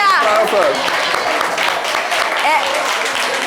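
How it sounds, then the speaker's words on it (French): Loud audience applause fills a live French variety show, a dense continuous patter of clapping with voices calling out over it at the start and again near the end. "Applaudissez-la"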